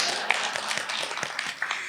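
Scattered, light clapping from a poetry reading audience, a handful of soft separate claps and taps rather than full applause, fairly faint and brief.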